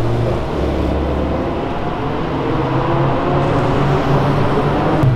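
A Chevrolet Onix pulling away on a road with oil on the surface, a steady broadband engine and road roar close by throughout, no clear rise or fade, no speech.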